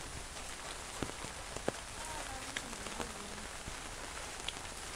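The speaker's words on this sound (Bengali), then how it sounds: "ফজরের সময় থেকে যে বৃষ্টি শুরু হয়েছে, বৃষ্টি এখনো মনে করেন শেষ হয় না" Steady rain falls in a village, a soft, even hiss with scattered close drips and drops, faint and continuous with no talking.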